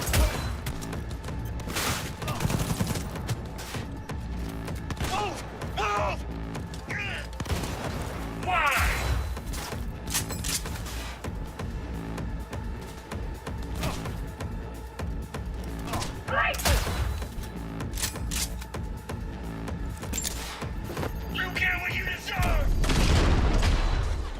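Enemy gunfire in the video game Cyberpunk 2077: dense, sustained bursts of shots and booming impacts roll on through the whole stretch, loud and close, mixed with game sounds and speech.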